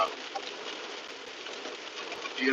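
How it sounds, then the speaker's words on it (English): Steady rain falling outdoors, a continuous hissing patter on surfaces that stays even and fairly loud throughout, with no talking. "even though it's raining like this"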